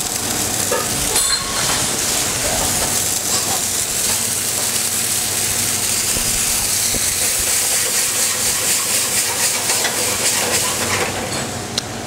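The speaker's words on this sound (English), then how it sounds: "we add our cognac to that, let that flame off" Cognac flambéing in a hot cast iron pan gives a steady, loud sizzle and hiss that runs unbroken throughout, with faint stirring scrapes underneath and no talking.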